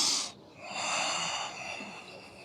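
A slow inhale during a yoga flow, a soft airy breath that swells and holds for a couple of seconds, close and fairly quiet, after a brief sharper breath at the start, with no talk.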